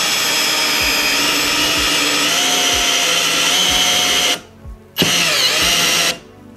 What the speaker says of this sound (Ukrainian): Давайте свердління.